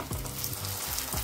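Water lily fritters frying in hot oil in a karahi, a close, even sizzle that holds steady with faint low clinks, no talking.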